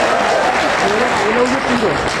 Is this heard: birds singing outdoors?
no